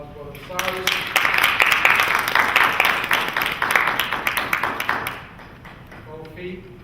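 Crowd applause for Brother Osiris on a live show stage: a burst of sharp, closely spaced claps swells in after a brief spoken line, holds for about four seconds, then drops away as a voice returns.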